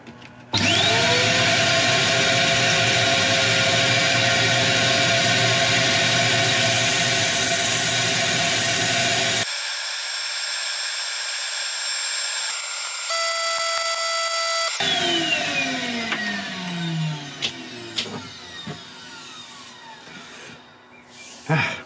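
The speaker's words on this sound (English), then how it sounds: "I shall start sanding" A woodturning piece being sanded on a spinning lathe gives a loud, steady motor whine with a broad abrasive hiss for about nine seconds. The machine then cuts out, a quieter hum follows, and it spools down into scattered clicks and rattles.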